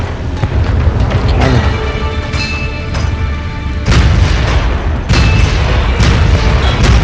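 Cannon fire in the video game Guns of Icarus booms repeatedly amid a dense, continuous wash of battle noise, with heavy low thuds landing in quick succession and louder blasts around the middle and end.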